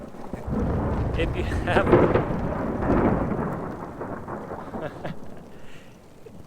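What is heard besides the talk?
thunder from a lightning strike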